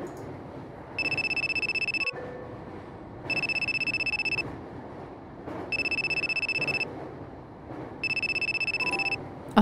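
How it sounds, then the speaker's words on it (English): Phone ringing in four evenly spaced electronic bursts, each lasting about a second with a short pause between, clear and fairly close over a low background hum, with a faint thud after the first ring. "A phone."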